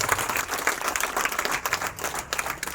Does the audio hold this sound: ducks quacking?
no